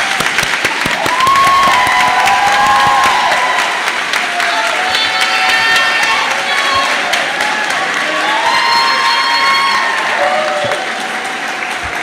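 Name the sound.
applause at a nursing graduation ceremony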